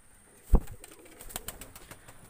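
Pigeons in a breeding loft, one sharp close knock or flap followed by soft, faint cooing and light rustling.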